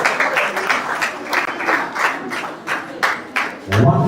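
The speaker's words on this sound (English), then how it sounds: "A round of applause for them." Audience applause at a school inter-house quiz and debate, a steady wash of clapping from a room full of people that swells and fades in bursts.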